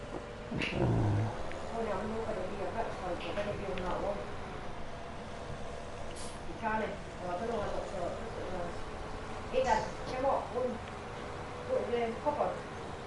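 A kitten mews intermittently in an indoor room, with soft cries close by that are partly masked by ongoing talk and background noise.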